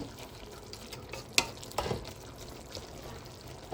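Pork binagis being stirred in a pan, a utensil scraping and clinking a few times with sharp knocks near the middle over a soft, quiet background of cooking.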